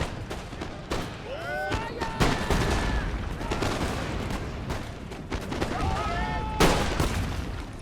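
Cannon fire and canister shot volleys in the Empire Total War video game crack out in repeated loud bursts across a busy battlefield, with whistling projectiles and rolling booms between shots.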